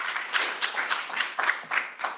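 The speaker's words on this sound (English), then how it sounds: "You can applaud for that one" Audience clapping at a town board meeting, a short burst of applause with irregular rhythmic claps, moderately loud and fairly close, with no talking over it.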